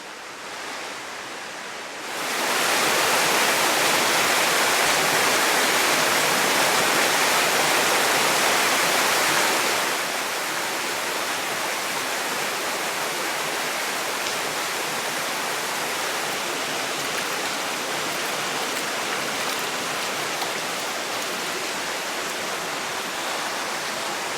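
Waterfall and stream water rush through Naeyeonsan valley at Gwaneum Falls. The roar swells loud and broadband after a quieter start, then settles to a steady, continuous wash of falling water with no voices.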